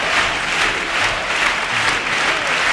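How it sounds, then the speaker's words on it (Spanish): A packed theatre audience applauds a carnival chirigota's pasodoble at the Cádiz Carnival, steady dense clapping filling the whole stretch at close, loud level with no voices over it. "Parte del teatro en pie, aplaudiendo esta letra"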